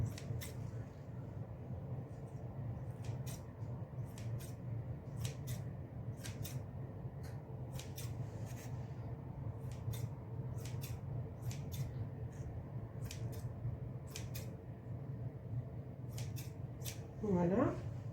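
Scissors snipping through soft bun dough, a series of short, crisp cuts in irregular clusters over a low background hum, with a person speaking in between.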